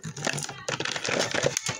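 A Five Nights at Freddy's Liberty Chica action figure box is torn open, with close crinkling and rustling of cardboard and plastic packaging in a continuous busy scrape, with no talking.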